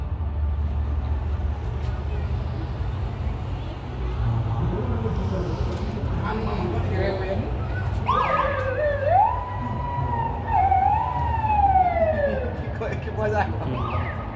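Police car siren wailing at a marathon race among roughly 20,000 runners in Eumseong, rising and falling tones swelling in midway over crowd and street noise.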